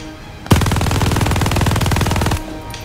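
Loud, close, continuous automatic fire from a mounted machine-gun turret in the World War II shooter Call of Duty: Vanguard. It runs as one steady rapid burst of about two seconds that starts and stops abruptly.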